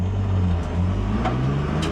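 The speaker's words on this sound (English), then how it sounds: "driving the E36 M3 race car on the streets. Obviously it's loud" A BMW E36 M3 race car with an S54 engine drives on public streets, its loud, steady engine drone and exhaust rumble filling the cabin with slight rises and dips.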